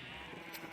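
A short Minecraft sheep bleat rises over a constant low game hum, close and fairly clear, with a couple of faint high clicks near its end and no voices.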